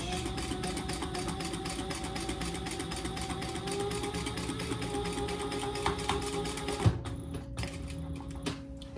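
A sewing machine runs a continuous humming stitch along a tote bag seam, whirring steadily up close for several seconds before stopping, leaving a few faint clicks and a quieter hum.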